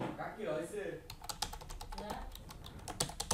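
A computer keyboard clicks in quick uneven bursts under a voice speaking near the start, with the keystrokes continuing alone afterward.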